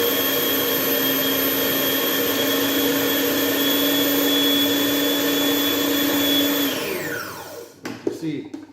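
A food processor whirring as it mixes dough with egg, a loud steady motorized whine that holds for several seconds, then winds down and stops, followed by a few clunks.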